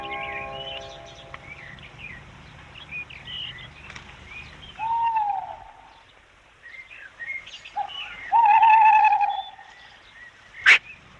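Night bird calls in a dark outdoor setting: a few soft, wavering hoot-like tones drift at moderate distance over a low rumbling background, ending with one sharp, brief higher cry.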